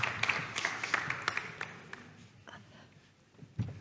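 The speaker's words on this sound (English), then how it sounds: "a round of applause for them, ladies and gentlemen" Scattered clapping from an audience, a burst of sharp claps at first that thins out and fades, with a final soft thump near the end.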